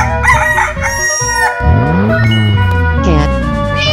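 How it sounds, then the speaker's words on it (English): A rooster crows loudly in a long, bending call against a busy cartoon music bed, from a children's animal cartoon. "Chicken."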